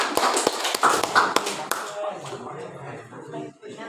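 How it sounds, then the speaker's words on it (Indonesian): Classroom applause for a student, with sharp scattered claps and taps that start loud, then thin and fade, while voices talk over them. "Tepuk tangan buat Irfan"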